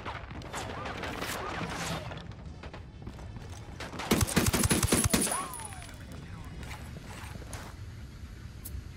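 A burst of rapid automatic gunfire rattles out in the Ghost Recon game, a dense, loud volley lasting about a second amid background game noise and faint voices.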